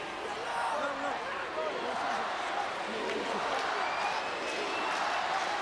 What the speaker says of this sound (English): Gets the spectators cheering a little louder.